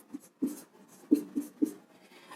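Chalk or marker strokes on a board during a trigonometry lesson, a handful of short scratchy taps in uneven rhythm, close and clear with no talk over them.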